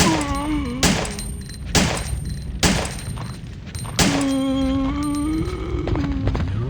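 Pistol shots ring out at zombies in Resident Evil 3, four sharp cracks spaced about a second apart followed by a fifth, with game music and ambient tones in between.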